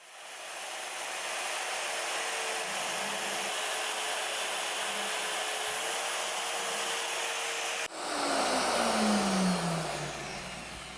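An Evolution EvoMag42 magnetic drill bores into metal with a 9/16 cutter, giving a loud, steady motor whine that holds for several seconds. Near the end the pitch shifts abruptly and then slowly falls as the motor winds down.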